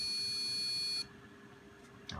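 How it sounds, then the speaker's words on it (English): A shrill electronic beep from a computer with a Gigabyte A320M-S2H motherboard rings continuously for about a second, then cuts off, leaving quiet room hum and a faint click at the end. "That was a bit too much beeping there."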